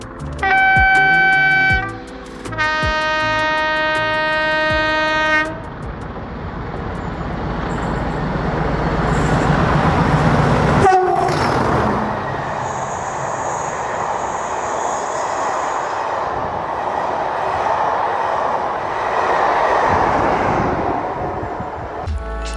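A heritage diesel locomotive hauling a railtour on the East Coast Main Line sounds two loud horn blasts up close, followed by a sustained, heavy engine roar as the train passes by.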